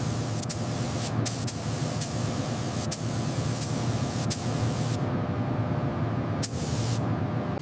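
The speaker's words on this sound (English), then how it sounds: "we're clear to start spraying the bursts first thing." Spray guns applying burst finish to electric guitars inside the Gibson factory, a steady airy hiss with periodic sharper bursts, continuous and fairly close.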